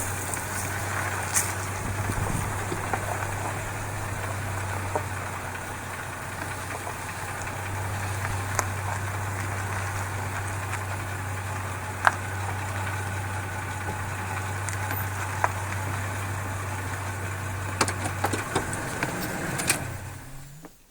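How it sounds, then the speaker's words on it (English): A car engine idles with a steady, low, continuous hum for about twenty seconds, faint clicks and small knocks scattered over it, then cuts off at the end. "Turn the engine off here for a bit."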